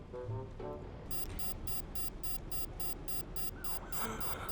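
A rapid, regular electronic alarm rings in repeated bursts in a Roblox firefighter game, loud and insistent, over a low background rumble, with a rising tone near the end.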